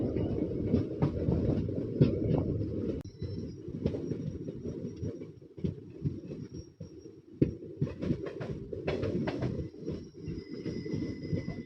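A Gandhigram to Botad passenger train rolls along continuously, with loud rumbling wheels, rhythmic clatter over rail joints and occasional squeals throughout.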